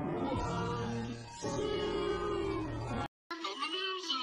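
Cat meows in a Zoopals snack commercial, a sustained harmonic meowing tone that carries through most of the sound, loud and close, broken by a brief silence before a final shorter stretch.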